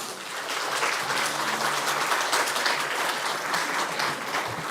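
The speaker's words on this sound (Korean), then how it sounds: "박수 한번 해주시길 바랍니다" A church congregation at a Sunday service applauds steadily, a dense, even wash of many hands clapping throughout, with a faint voice briefly audible beneath.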